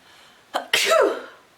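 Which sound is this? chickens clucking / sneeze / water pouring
sneeze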